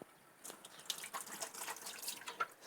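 Tap water runs and splashes into a sink while a cutting board is rinsed, a light irregular patter with scattered drips and clinks, fairly quiet and close, with no talking.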